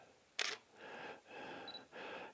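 A camera shutter fires with one sharp click in a studio portrait session lit by a Godox FL100 light, followed by three soft whooshing recharge-like swells, quiet and close, with no talk.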